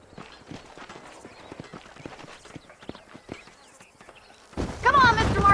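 Horse hooves clip-clop at a steady walking pace in the Western video game Red Dead Redemption, fairly soft and continuous, before a loud burst of louder noise near the end.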